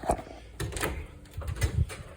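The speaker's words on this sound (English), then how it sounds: "Opening up doors" Doors of an Airbnb rental in Harrisburg, Pennsylvania are opened during a cleaning job, producing a few quick knocks, slides and thumps close by over about two seconds.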